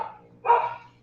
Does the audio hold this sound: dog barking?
yes